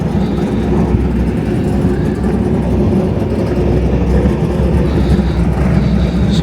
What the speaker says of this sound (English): Looks like Keith or someone is testing the Comet